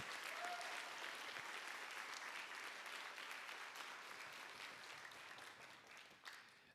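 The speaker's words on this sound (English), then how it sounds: "Let's give them a round of applause." An audience applauds at an elementary school spring concert, with steady, sustained clapping from a full crowd that fades slightly toward the end.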